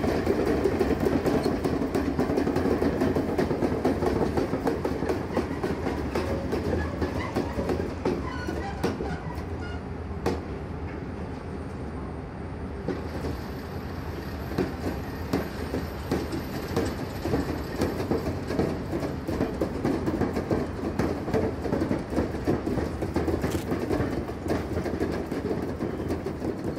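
A Swiss Crocodile electric locomotive rolls past with a loud, steady rumble and rhythmic clickety-clack of wheels, continuous and close for nearly half a minute with no talking.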